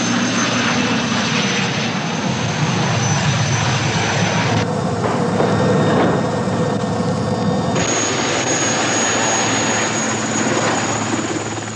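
Military helicopter flying in an airborne demolition party near a bridge in a combat zone, a steady loud rotor and engine drone that holds for about twelve seconds, with a brief change in its whine midway.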